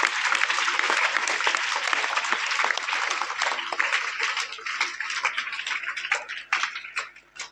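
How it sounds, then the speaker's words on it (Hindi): Schoolchildren at a motivational seminar clap loudly, a dense burst of applause that thins into scattered, uneven claps toward the end. "एक बार आप जोरदार तालियां अपने लिए बच्चों।"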